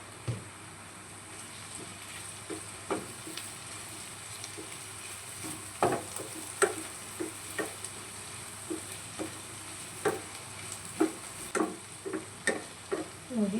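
Spices being stirred into parwal sabji in a pan: a soft steady sizzle of frying beneath a run of sharp spoon scrapes and taps against the pan, irregular at first, then more frequent, with no talk.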